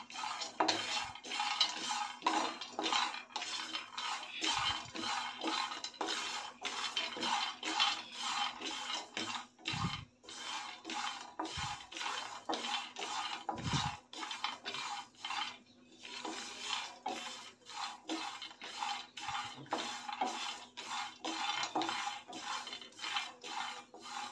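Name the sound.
dry-roasting coconut, peanuts and sesame in a pan on low flame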